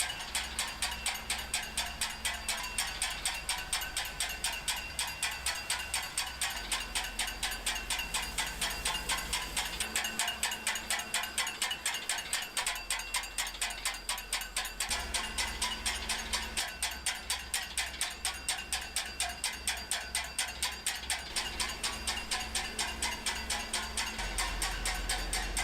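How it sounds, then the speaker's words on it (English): Noodle factory machinery handling dried vegetables makes a fast, steady mechanical ratcheting clatter that runs without a break. Low hums shift underneath it, and the sound is loud and close with no speech. "Just listen to those machines."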